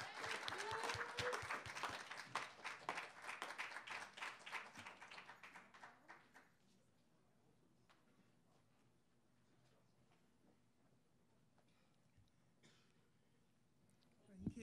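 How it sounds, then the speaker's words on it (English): Open mic audience applauding a performer: dense clapping for about six seconds with a few individual sharp claps standing out, then quiet room tone before a sudden loud bump at the end. "I want y'all to give a nice round of applause to this woman."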